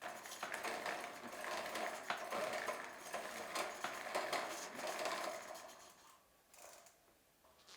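A 1960s moped being pedaled in an attempt to start it, a faint close clattering of chain and mechanism with rapid ticks and rhythmic rattles that fade near the end.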